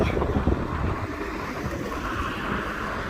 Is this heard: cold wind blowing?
yes